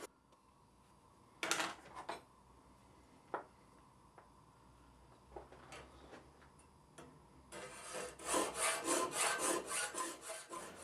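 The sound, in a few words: filing metal work held in a forged filing vise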